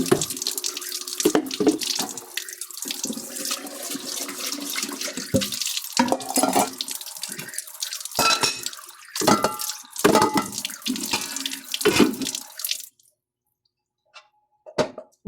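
Dishes being washed under a running kitchen tap, water streaming steadily with clinks, splashes and squishes for most of the time, then cutting off to near silence with a few faint drips and clatters at the end.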